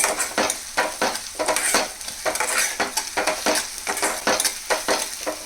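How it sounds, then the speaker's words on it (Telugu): Ginger garlic paste frying in a pan for an egg curry, with a steady broadband sizzle and repeated scraping stirs at a quick, regular rhythm, close and fairly loud, no voices. "ఈ అల్లం వెల్లుల్లిపాయ పేస్ట్ కూడా పచ్చివాసన పోయే వరకు ఫ్రై చేసుకోవాలి"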